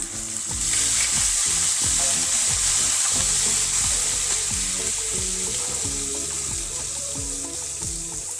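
Green chillies and spices sizzle loudly in hot oil while a potato and nigella-seed vegetable dish for Navratri is cooked, a dense steady frying hiss with repeated stirring scrapes throughout, close and continuous with no talking.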